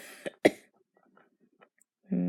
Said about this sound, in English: Am I still coughing?